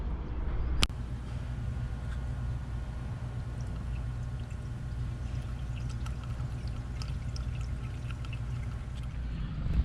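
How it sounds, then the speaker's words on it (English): Engine flush liquid is poured into a car engine, a low, steady glugging trickle under a constant background rumble, with a brief sharp click near the start. "once you pour the engine flush in, you let it run for about 10 minutes"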